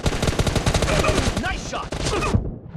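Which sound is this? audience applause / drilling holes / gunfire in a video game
gunfire in a video game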